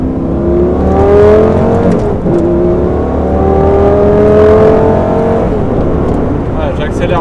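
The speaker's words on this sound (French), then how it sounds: "j'accélère pas encore à fond parce qu'elle n'est pas encore bien chaude" Close, loud engine of a Lamborghini Gallardo Superleggera revving up under moderate acceleration, its pitch rising in repeated sweeps, with a brief dip between pulls and a steady roar throughout.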